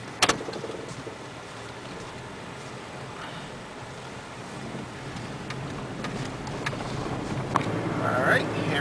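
A Cavalier car drives toward a beach, a steady low road and engine rumble with wind noise from inside the cabin, a few faint clicks and taps, and speech over the drive.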